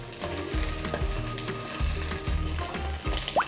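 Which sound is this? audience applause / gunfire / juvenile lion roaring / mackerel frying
mackerel frying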